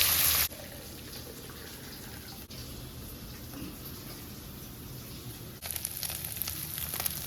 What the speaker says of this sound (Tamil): ஃப்ரைடு சிக்கனை வந்து நல்லா வறுத்துட்ருக்குறேன். எண்ணெய் ஊற்றிருந்தேன் இல்லையா, அதில் வறுத்துட்ருக்குறேன்.